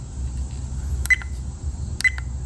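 Two short electronic beeps from a car dashcam, about a second apart, each a bright tone with a faint click, sounding close over a low steady hum.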